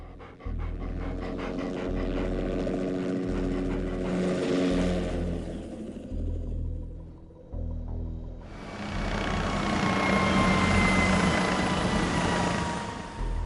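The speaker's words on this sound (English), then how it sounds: "a helicopter with Norwegian markings buzzes overhead" Steady, loud rotor thumping from a helicopter with Norwegian markings passing close overhead over an icy plain, a low chopping pulse that swells into a broad roar of engine noise.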